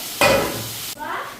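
Potatoes drop into hot oil in a pan with a sudden loud sizzle, then a spatula scrapes and stirs them as the frying continues at a softer crackle.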